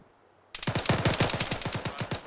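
Rapid bursts of rifle gunfire during a squad training session in a military shooter video game, loud and close, starting abruptly after a short quiet moment and continuing as a dense, uneven stream of shots.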